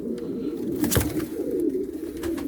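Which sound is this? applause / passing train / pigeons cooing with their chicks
pigeons cooing with their chicks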